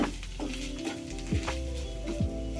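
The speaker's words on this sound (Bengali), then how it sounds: "একটু নাড়াচাড়া করব একটু হালকা করে ফ্রাই করে নেব" Chicken patty filling is stirred and lightly fried in a pan, with soft sizzling and a few scraping strokes of a spoon spaced across the moment.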